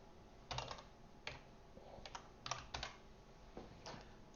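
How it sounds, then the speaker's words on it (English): Keys clacking on a computer keyboard while code is entered, irregular bursts of close, crisp taps with short pauses between them, no talking. "that is a lot of typing."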